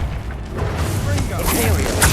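Bombarda blasting spell erupting in Hogwarts Legacy, a dense, loud rumble with dull thuds and a whooshing swell, continuing steadily under a voice speaking, with a final burst near the end.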